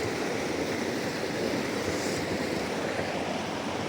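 A waterfall at Mamalakandam roars in a dense, unbroken wash of rushing water, steady and fairly close, with no voices over it.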